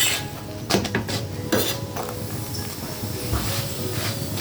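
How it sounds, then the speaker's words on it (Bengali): A paratha fries in a pan with very little oil, a soft sizzle under several sharp clinks and scrapes of a metal utensil against the pan. "তো এই যে পরোটা ভাজি করে নিচ্ছি"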